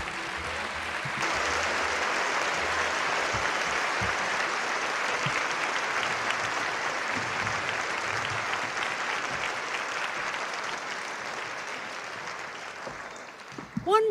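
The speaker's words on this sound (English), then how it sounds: "giant round of applause" A large crowd at a high school senior night gives a long, sustained round of applause, dense and steady clapping lasting well over ten seconds before a closer noise at the very end.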